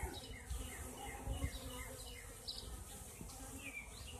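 Honeybees crowd the landing board of a Lazutin double deep hive fitted with a purple energy plate, their close, steady buzzing joined by passing wingbeats and faint bird chirps in the background.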